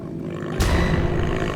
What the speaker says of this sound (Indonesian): Tapi itu ada lolongan serigala, Jul.